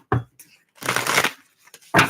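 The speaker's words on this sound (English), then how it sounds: "Last shuffle." Tarot cards are shuffled in three quick, crisp riffling bursts separated by short pauses, close to the microphone and with no talking.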